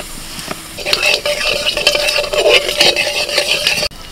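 Asafoetida and whole spices hit hot oil in a wok, a close sizzle broken by scraping strokes of a spatula against the metal, fairly loud and busy before stopping sharply.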